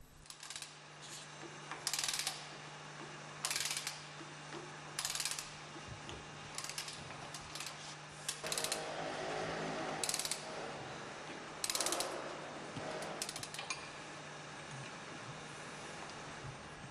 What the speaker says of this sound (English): Screw in the threaded spindle T13 to extract the brass bush.